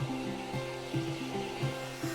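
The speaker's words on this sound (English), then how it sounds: "as soon as he sees that blow dryer" A blow dryer drying a cockatoo, a steady close whirring hum with a pulsing, wavering tone as the airflow shifts, no talking.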